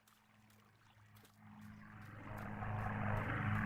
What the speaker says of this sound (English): Stop making that sound